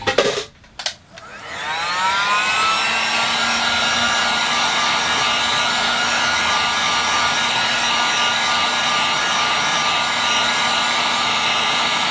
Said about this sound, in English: I'll use a blow dryer.